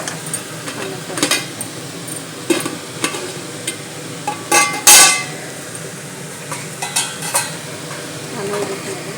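Eggs frying with coriander and cumin powder, a soft sizzle under repeated clinks and scrapes of a spoon stirring against the pan, with one sharper knock near the middle.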